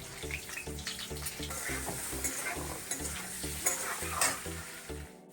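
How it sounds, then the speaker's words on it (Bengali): Eggs frying in hot oil in a pan for an egg curry, a steady loud sizzle running throughout with scattered crackles and pops, alongside a low rhythmic background hum. "তো আমার তেলটা গরম হয়ে গেছে, এখন আমি এটাতে দিয়ে দেবো ডিমগুলো"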